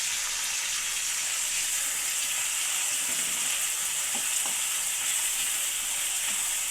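Masala of cumin, garlic, chillies, onion, tomato, turmeric and salt cooks in oil for stuffed spiny gourd curry, a loud, continuous hiss of frying with faint stirring taps mixed in and no talking.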